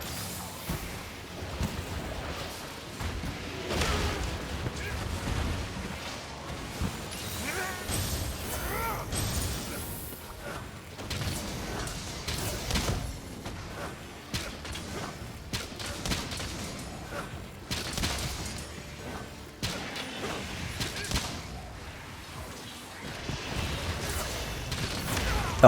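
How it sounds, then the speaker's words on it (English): A monster's follow-up explosions in Monster Hunter Rise Sunbreak, a video game: repeated booming blasts and crashes over busy battle noise, with someone talking at points. "The monster has a lot of follow-up explosions"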